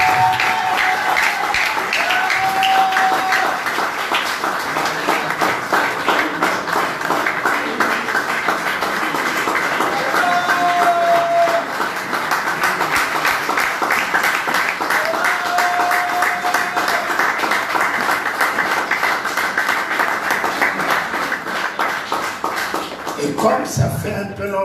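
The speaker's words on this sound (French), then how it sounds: "Est-ce que nous pouvons recevoir papa avec nos acclamations?" A church congregation at a Sunday worship service claps and cheers in a long, steady wash of sound, with brief whistles or voices rising above the dense applause throughout.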